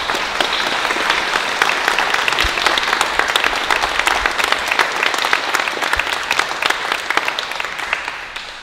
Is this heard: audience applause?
yes